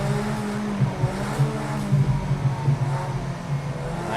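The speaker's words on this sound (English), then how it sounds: "I hear cars" Group B rallycross cars in Project CARS 2 whine and rev continuously, with layered motor tones rising and falling as several cars drive at once.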